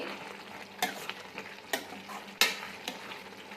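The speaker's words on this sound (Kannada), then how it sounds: "ಟೊಮೊಟೊ ಫುಲ್ಲು ಮೆತ್ತಗಾಗೋ ತನಕ ಕುದಿಸ್ಬೇಕು ಇದನ್ನು" Tomato chutney cooking in a pan, a steady soft sizzle and bubbling with several sharp spoon taps and scrapes against the pan as it is stirred, close and fairly quiet, no talk.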